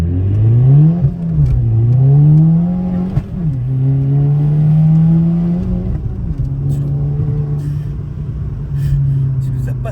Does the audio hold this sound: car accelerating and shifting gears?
yes